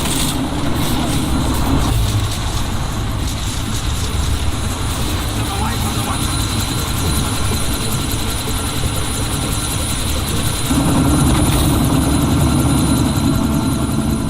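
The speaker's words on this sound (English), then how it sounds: "That chopper's about to take off." A helicopter in the video game Deus Ex: Mankind Divided runs with a loud, continuous rotor and engine drone, pulsing steadily and swelling slightly toward the end, with voices speaking over it.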